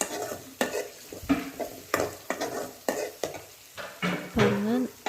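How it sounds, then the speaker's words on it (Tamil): Chopped onions sizzle over low flame in a pan while a spoon scrapes and stirs in repeated strokes, close and fairly loud. "லோ ஃப்ளேமில் வச்சு நல்லா வதக்கி விட்டுருந்தோம்"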